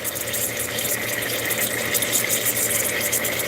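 Air and water spurt from the bleed valve on a diatomaceous earth pool filter, a steady hissing gush with a faint low pump hum underneath, continuous and close.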